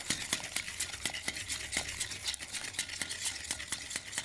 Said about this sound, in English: A bit of gentle whisking.